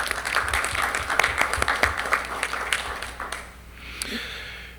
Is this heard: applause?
yes